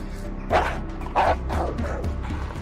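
A dog in an outdoor woodland manhunt setting gives two short, loud barks about a second apart, followed by quieter yips and whimpering sounds.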